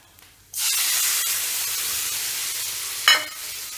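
Hot oil with chili powder, coriander powder, garam masala and turmeric erupts into a loud, steady hiss and sizzle as boiled water hits the pan for an egg curry, with a second sharp spitting burst near the end.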